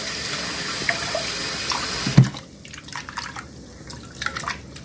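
Tap water runs loudly into a sink while seitan dough is rinsed, a steady rush that suddenly cuts off midway, leaving scattered drips and faint splashes.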